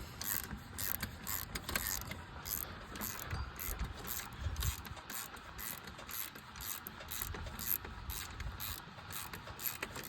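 Ratchet tightening exhaust manifold bolts on a Jeep 4.0 engine, giving rapid repeated clicking strokes in bursts at close range, with brief pauses between runs.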